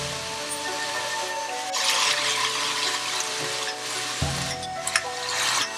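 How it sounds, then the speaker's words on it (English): Vegetables and coconut cream stir-fry in a hot pan for a beef and chicken stir fry, a steady moderate sizzle with brief scraping stirs and a louder burst of hissing partway through. "Now add the vegetables and coconut cream and stir fry until heated through."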